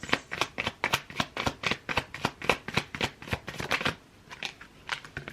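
Tarot cards shuffled by hand in quick, rhythmic riffling bursts, close and crisp, with a short pause before shuffling resumes and no talking.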